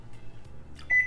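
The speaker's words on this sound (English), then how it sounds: "Does anybody else worry about putting glass dishes into a microwave?" A microwave oven heats a chocolate mug cake in a glass dish with a low steady hum, then gives a bright electronic beep near the end, close by and with no talk.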